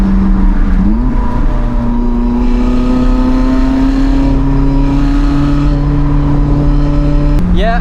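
A Lotus Elise accelerates along a road, its engine and exhaust climbing in a steady rising drone that holds loud and close before a quick shift and brief rev near the end.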